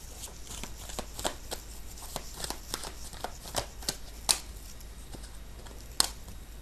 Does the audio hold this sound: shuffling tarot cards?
yes